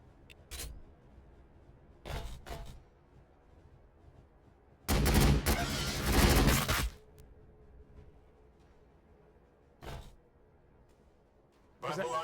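Gunfire bursts in Warhammer 40K BattleSector, a Blood Angels versus Tyranids battle, with short sharp volleys at irregular intervals and one longer, louder sustained barrage in the middle over a quiet background.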